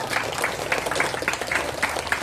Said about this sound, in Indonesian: Tepuk tangan untuk kelas 5 semuanya.